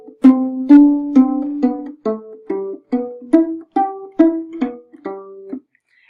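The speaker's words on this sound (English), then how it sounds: "this is a bass line that is plucked" Plucked bass strings play a walking line, about a dozen evenly spaced notes stepping up and down in a steady swing rhythm, close and clear with no other instruments.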